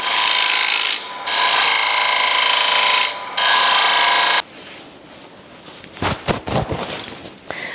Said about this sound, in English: I'm just using the 1/4 inch ball gouge now